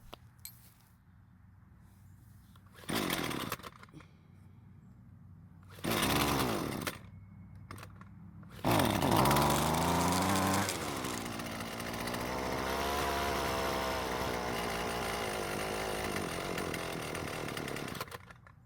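Husqvarna string trimmer with a poorly adjusted carburetor idle screw, its small two-stroke engine sputtering to life in short bursts that die out, then running rough for several seconds at idle before fading, heard close with no talking.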